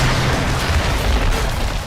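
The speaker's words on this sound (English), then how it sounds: "This cave explosion" A cave explosion in the video game Tomb Raider 2013 roars as a loud, sustained rumbling blast, its deep booming crackle filling the whole stretch without pause.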